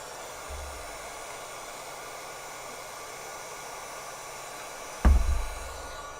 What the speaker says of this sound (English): let's go ahead and get our heat gun heated up here